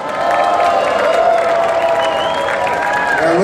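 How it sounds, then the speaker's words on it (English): Crowd at an LGBT Days bed race event in Cathedral City cheers and applauds the racing teams, a steady loud mix of clapping and shouted whoops with voices mixed in. "Here they come, let's cheer them on!"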